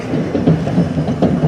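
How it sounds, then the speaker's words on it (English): Another diesel train rolls past in a rail yard, a steady close rumble with faint clickety-clack of wheels over rail joints, no voices. "Oh, there's another diesel train."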